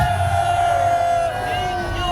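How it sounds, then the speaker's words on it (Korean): A crowd at an outdoor political rally at Gwanghwamun in Seoul roars and shouts in a loud, sustained cheer. Voices rise together and hold at a steady level for the whole moment. "수고하신 김경재 정전에게도 뜨거운 함성을 보내시기 바랍니다."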